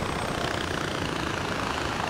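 A small helicopter in the video game Far Cry 4 drones with a steady, loud engine roar, broad and unbroken throughout with no speech.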